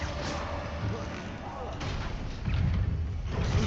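The Confringo blasting spell in Hogwarts Legacy lands as a dull thumping boom with a rumbling burst near the end, heard amid spellcasting combat.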